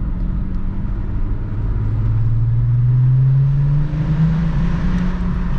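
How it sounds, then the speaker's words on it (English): Stock Volkswagen Jetta VR6 wagon engine pulling through a tunnel, a loud continuous droning note that climbs steadily in pitch as the car accelerates, echoing and alone with no talk. "Oh, she sounds good. And it's stock, dude, and it sounds incredible."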